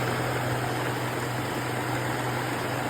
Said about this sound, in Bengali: শুনুন তো ও কতগুলো মেশিন চালাচ্ছে আজকে।